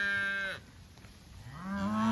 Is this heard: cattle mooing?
yes